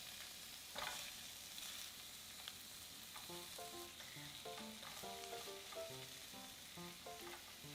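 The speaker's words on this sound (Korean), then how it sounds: "두부를 건져낸 팬에 양파를 먼저 올려놓고 살짝만 양파향이 올라오도록 한번 볶아주세요" Sliced onions and pan-fried tofu sizzle and crackle steadily in a hot frying pan, with occasional stirring clatter and faint background music tones, no talking.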